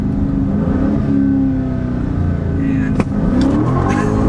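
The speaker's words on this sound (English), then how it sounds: "man, wow, yeah, just instant tire roasting. The second you step on it, it's so much fun." A 2023 Chrysler 300C with the 6.4L V8 accelerating hard, a loud continuous deep engine roar with a brief shift-like break midway, someone speaking briefly over it.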